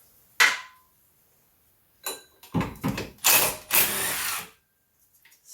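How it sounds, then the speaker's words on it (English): An impact wrench removes bolts from the power steering pump on a Renault Trafic / Vauxhall Viva van: a short burst, a pause, then several loud close rattling bursts in quick succession before falling quiet. "Ratchet, or impact in this case."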